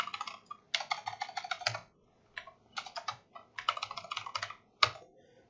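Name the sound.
typing a search keyword on a computer keyboard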